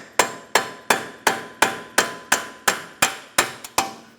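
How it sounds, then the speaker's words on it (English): Eleven sharp metallic hammer blows strike a punch centered on a front axle nut of a Honda Accord at a steady, even pace, each ringing briefly before the next, close and loud with no talking. "Hammer and punch right in the center here."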